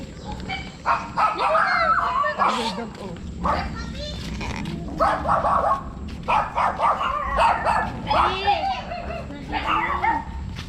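A dog barks and yips in repeated bursts nearby, mixed with people talking and some whimpering sounds.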